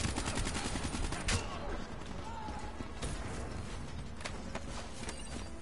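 Assault rifle fire in a co-op video game campaign, rapid shots crackling over a busy background of game noise, fairly distant and steady, with a few sharper reports standing out.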